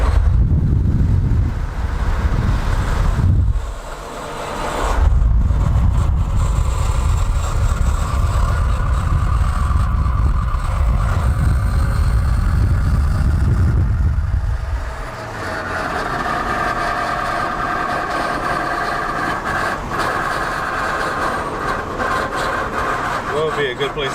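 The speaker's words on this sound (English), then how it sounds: "You hear those turbos? Diesel turbo." Diesel truck engine with turbos running rough in a moving vehicle, a loud continuous low roar with turbo whine, dropping briefly around five seconds and easing to a lighter rumble after fifteen seconds, with wind buffeting and people talking.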